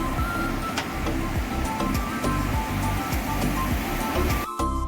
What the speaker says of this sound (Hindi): ये सामने जो कलकल बहता हुआ पानी आप देख रहे हैं, इस नदी का नाम है सोनाचू रिवर